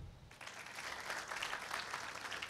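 A church congregation at an Urdu sermon breaks into faint, distant applause that starts abruptly and carries on as a soft, even patter to the end.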